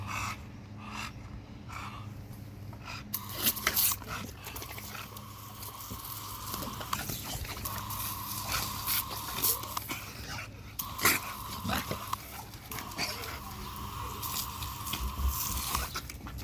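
Several American Bully dogs play outdoors in fine weather, with scuffling paws, mouthing and bites, panting and occasional whimpers coming in irregular bursts at close range.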